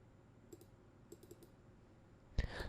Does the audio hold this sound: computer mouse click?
yes